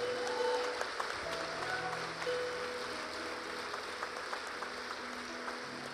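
A church congregation applauds in a steady, dense wash of clapping that sounds somewhat distant and reverberant, with faint sustained tones beneath it.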